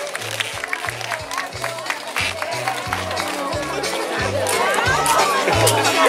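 At a family party, the crowd applauds the balloon godmother. Scattered clapping swells into steady, fairly loud applause under music with a thumping bass beat, and voices are heard amid the noise.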